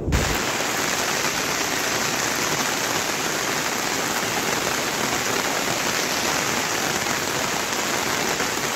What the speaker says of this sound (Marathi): पाऊस भरपूरच जास्त लागलो आता